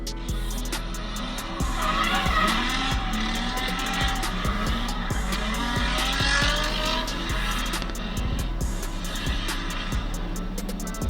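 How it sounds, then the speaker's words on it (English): A 1986 Dodge pickup drifting, its engine roaring with repeated rev surges while the tires squeal loudly and continuously, close and intense with sharp clicks and knocks throughout. "who else do you know that drifts a 1986 Dodge pickup? He wheels this thing."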